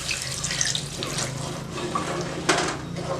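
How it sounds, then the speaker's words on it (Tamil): Water poured from a tap or vessel into a pot of Tamil-style fish curry with tamarind, a continuous splashing and gurgling flow with light clinks of pans, close by and without talking. "இப்போ தண்ணி ஊற்றிடுங்க."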